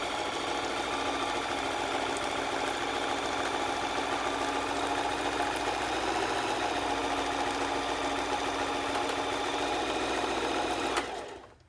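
Sewing machine zigzag stitching fabric alongside a foam insert, a steady loud whirring drone running continuously for about eleven seconds before stopping abruptly.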